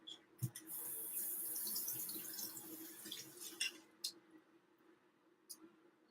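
Homemade cucumber juice for a natural hair oil being poured out, giving a continuous trickling, splashing pour that then breaks into scattered drips and small splashes, close and fairly quiet.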